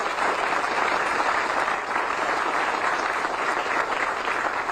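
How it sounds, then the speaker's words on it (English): An audience claps steadily at a groundbreaking ceremony for a new multimillion-dollar hangar at Chennault. The dense, even applause runs loud and unbroken from start to finish. "Let's please give them a round of applause."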